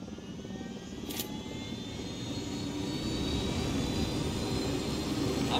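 An aircraft engine roars steadily in the Ghost Recon Wildlands video game, a loud continuous drone that swells slightly, with one brief sharp noise early on and no talking.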